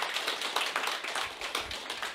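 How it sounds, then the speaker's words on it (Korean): An audience at an Atomy business seminar applauds, a fairly soft, steady patter of many hands clapping with individual claps audible, heard from a little distance and with no speech on top. "큰 박수 한번 치고 시작하겠습니다"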